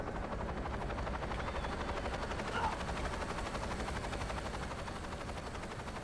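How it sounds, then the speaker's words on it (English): Helicopter in the video game Saints Row 2, a steady rapid rotor chop with engine whine running continuously, loud and constant, with no voices over it. "But this one, you have to wait for the helicopter."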